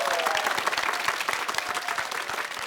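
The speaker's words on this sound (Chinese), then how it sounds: "掌声鼓励" Studio audience clapping in a dense, continuous burst of applause for the full stretch, loud and even, with a few voices faintly underneath.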